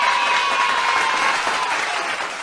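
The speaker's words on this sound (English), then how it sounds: "We got to get the clap track." Canned applause from a clap track fills a podcast studio, a dense, steady wash of clapping that holds loud throughout and tapers slightly at the end.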